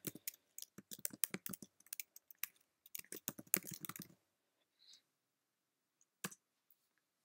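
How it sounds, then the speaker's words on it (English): Computer keyboard typing in quick bursts of close, crisp key clicks for about four seconds, then a few isolated taps after a pause; no voices. "I'll type my email address."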